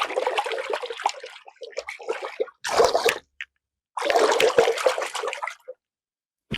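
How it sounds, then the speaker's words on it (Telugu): Heavier foley waves are made by splashing water in a bucket: three close, rushing surges of sloshing water separated by brief silences. "కొంచెం ఇంకా హెవీగా అలలు ఉరికొచ్చి మనకు తగిలితాయి కదా"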